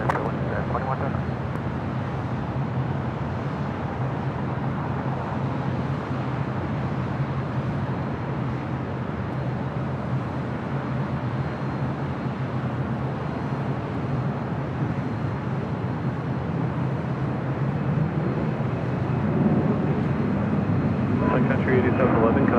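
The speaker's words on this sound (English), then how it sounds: "Sun Country, 737-800, now rolling down, 6 left" A Sun Country Boeing 737-800 rolls down runway 6 left at LAX on its takeoff run, its engines giving a steady, broad roar that holds throughout, with radio talk at times over it.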